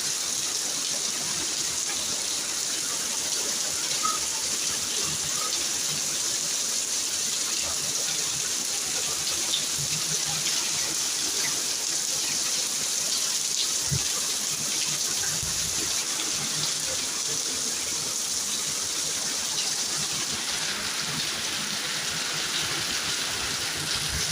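Steady hiss of rain pouring down, a constant wash of falling water with no voices, even and unbroken throughout.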